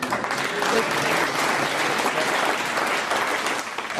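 A studio audience at a comedy panel game show breaks into steady, dense applause that fills the whole stretch at an even level, with no talk rising above it.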